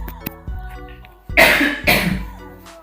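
Two harsh coughs close together near the microphone, following quieter background sounds and a few faint clicks.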